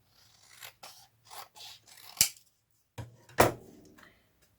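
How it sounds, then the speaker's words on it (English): Scissors snip through paper in a series of short, crisp cuts with uneven pauses between them, close and clear, the last two snips sharper and louder. "Wrong scissors."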